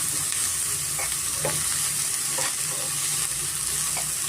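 Ginger garlic paste frying in a pan for butter paneer masala gives a loud, continuous close hiss throughout, with faint stirring taps underneath.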